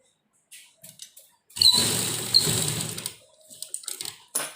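A sewing machine stitches baby dress fabric in a short, close, steady whirring burst lasting about a second and a half. Scattered handling clicks and fabric rustles come before and after it.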